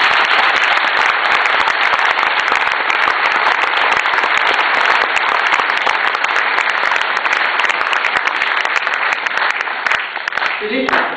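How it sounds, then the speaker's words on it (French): A large indoor audience at an evening conference on the Vendée gives sustained, loud applause, dense clapping that holds steady for about eleven seconds before starting to thin out. "Et là, ça mérite un énorme applaudissement."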